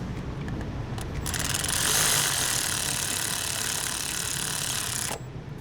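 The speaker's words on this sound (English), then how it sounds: "once you feel that the socket is going inward, you can actually start it with a gun" Power gun spinning a spark plug socket on a BMW 750Li F01 engine, a steady buzzing whir running for about four seconds before stopping, close and fairly quiet.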